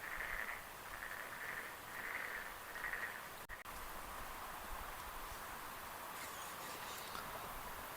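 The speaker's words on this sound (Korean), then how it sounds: "혹시 이 개구리 소리가 마이크에 들어갈지 모르겠는데" A tree frog croaks at night beside a fishing pond in Namyangju. Faint, evenly spaced trills come in the first few seconds over a steady hiss of night noise.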